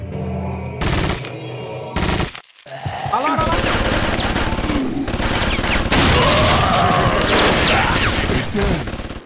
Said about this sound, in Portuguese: tá metralhando os inimigos